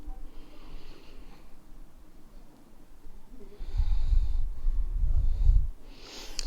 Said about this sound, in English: And one more deep breath.